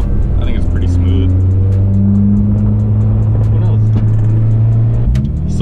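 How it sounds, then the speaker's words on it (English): A custom minitruck drives around town, its steady low engine drone and road rumble continuous and close from inside the cab, with a faint voice at times. "So I'm just gonna drive this thing around town."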